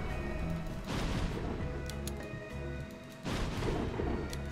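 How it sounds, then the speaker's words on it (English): Large fire plume traps roar in Spiral Knights, two broad whooshing bursts near one second and just past three seconds over a steady game background with faint chimes. "Apparently there are traps. And they apparently consist of large plumes of fire."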